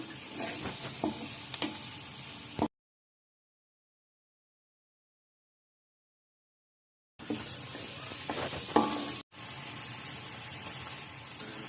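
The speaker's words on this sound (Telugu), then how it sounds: "సో ఇప్పుడు దాన్ని మంచిగా ఫ్రై చేయాలి." Carrots and sprouts frying with salt in a pan while being stirred, a steady sizzle and scraping under the utensil that stops abruptly for several seconds of silence before resuming with occasional clinks.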